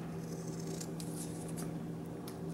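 Scissors rounding off the ends of kinesio tape, a few faint, close snips and scrapes over a steady low hum.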